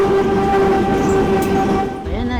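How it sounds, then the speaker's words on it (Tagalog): A train rumbles along railway tracks directly overhead, a loud continuous roar with strong steady tonal hum and rattling, easing slightly near the end. "Maalog yung tren"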